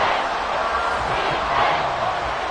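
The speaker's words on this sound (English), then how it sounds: "this crowd is making an impact right now." A football stadium crowd roars and cheers in a steady, loud wash of massed voices that holds without a break.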